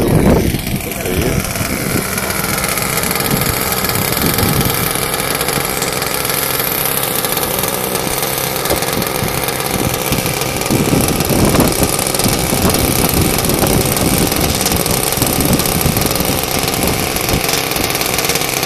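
Radio-controlled model airplane engine revving at a flying field, a loud, buzzing, high-pitched whine held steady at high throttle, with people talking faintly beneath it.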